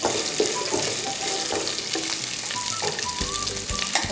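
Sliced onion sautés in a pan with a steady, close sizzle, punctuated by intermittent stirring scrapes and small pops.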